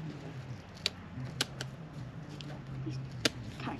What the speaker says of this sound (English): These kind of crappy scissors.